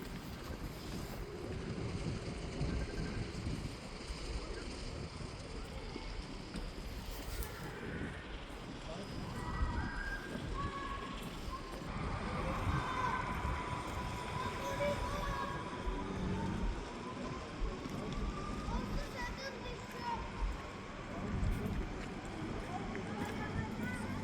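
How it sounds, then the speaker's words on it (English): Steady wind rushes and buffets the microphone on a bridge throughout, with a broad roar that swells and eases, and a voice speaks intermittently underneath. "Not a great day to be on a bridge. It's pretty windy."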